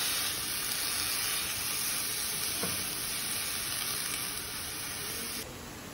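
Bean sprouts sauté in a pan with a loud, dense, continuous sizzle and hiss, close and steady, and a faint stirring scrape partway through; no one speaks.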